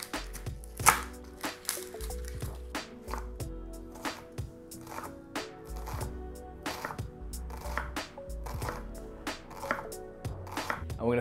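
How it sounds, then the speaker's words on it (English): A knife finely chopping garlic cloves and red onion on a board, with steady rapid chops in bursts and short pauses, close and clear with no talking. "just finely chop 3 cloves of garlic. One finely chopped red onion."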